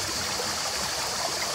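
A river flows beside a shaded stopping spot, giving a steady, even rush of water that runs unbroken and moderately close, with no voices.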